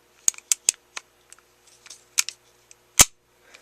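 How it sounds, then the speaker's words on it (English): Slide of a full-metal KJW M9A1 gas blowback airsoft pistol being handled and cocked, a series of sharp metallic clicks and snaps, the loudest one near the end, close and with no talking. "So even cocking it back sounds realistic."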